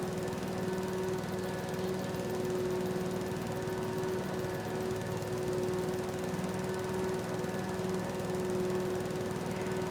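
A Husqvarna lawn mower cuts through thick, wet sod, its engine droning steadily and loudly close by with a constant tonal hum and no breaks.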